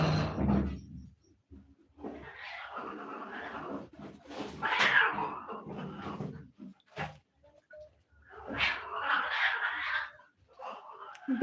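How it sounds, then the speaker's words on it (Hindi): Cats fight with drawn-out yowls and caterwauling, rising and falling in several loud bursts separated by short silences, fairly close and heard alone. "बिल्लियाँ हमारी बिल्ली के साथ लड़ रही होंगी।"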